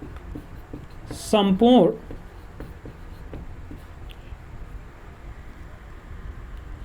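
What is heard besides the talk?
writing on a board during a physics lesson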